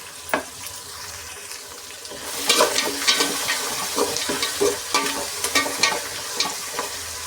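Onions with a little salt frying in a pan for a rice dish, a loud close sizzle with irregular stirring scrapes and clatters, starting quietly and then continuing steadily with no voices.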